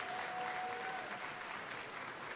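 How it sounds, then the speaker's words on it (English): A crowd applauds at the Mid-America Regional Emmy Awards ceremony, with steady, dense clapping that stays loud from start to finish and a faint held tone running underneath early on. "How about a nice round of applause for all of these people tonight?"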